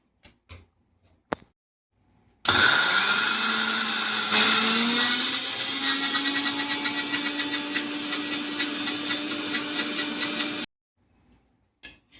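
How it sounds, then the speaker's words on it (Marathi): An electric mixer grinder pulverises drained soaked lentils for vada batter in one loud, close burst of about eight seconds, its motor pitch rising as it spins up, with rhythmic knocking toward the end. "डाळीमधलं पूर्ण पाणी काढून घेऊन डाळ मिक्सरमध्ये काढून घेऊ।"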